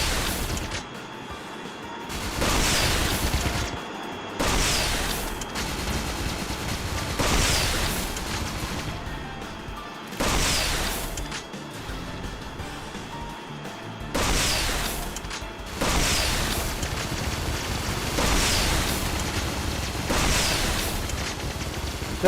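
Rockets exploding in the video game Agent 64: Spies Never Die, a series of loud booming blasts arriving every few seconds over a steady rumbling background, each burst swelling and fading.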